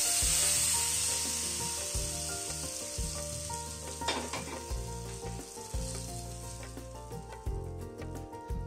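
Spices sizzling in hot oil for a tempering poured over vegetable khichuri, a loud crackling fry that settles into steady sizzling with stirring scrapes and clinks, alone without voices.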